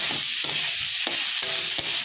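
Fried vegetables stirred into a spiced rohu fish curry in a pan, with several distinct scraping strokes over a continuous soft sizzle, up close and alone.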